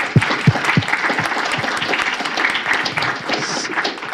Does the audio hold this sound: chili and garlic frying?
no